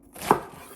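A knife cuts through cabbage in a home kitchen, one crisp, quiet chop with a brief thud against the board, alone without any voices.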